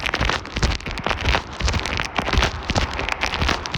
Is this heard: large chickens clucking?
no